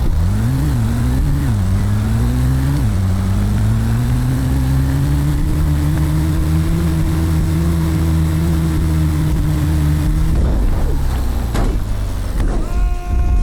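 A car engine in the driving game Untitled Trip hums loudly and steadily, its pitch rising in a few quick revs before settling into a long sustained drone, then dropping away with a short burst of shifting tones near the end.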